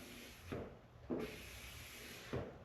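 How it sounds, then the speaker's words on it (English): A squeegee is drawn across a freshly buffed custom automotive paint finish in three short, soft rubbing strokes. The strokes sound faint and close, with quiet pauses between them. "take our squeegee and go down through here"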